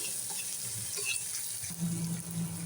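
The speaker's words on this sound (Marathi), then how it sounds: "त्यानंतर टोमॅटो घातलाय, तो सुद्धा मस्त तेलामध्ये छान असं परतून घेणार आहे." Tomato and onion sautéing in oil for spicy Maggi noodles, a steady close sizzle with a few light stirring scrapes and a low hum coming in midway, no talking.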